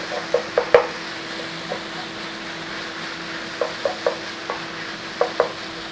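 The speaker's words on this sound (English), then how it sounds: "a tablespoon of tomato puree, tomato paste, whatever you know it by, in there. Stir it in." Tomato puree being stirred into minced beef frying in a pan, with a low background sizzle and clusters of sharp spoon taps and scrapes against the pan.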